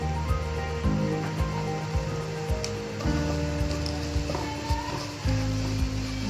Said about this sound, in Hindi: तेल गर्म हो चुका है।